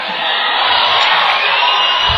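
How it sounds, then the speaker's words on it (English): A home crowd roars and cheers for the Tigers at a high school basketball game, a loud, sustained wash of voices and whoops that fills the gym without letting up. "Crowd gets into it now for the Tigers."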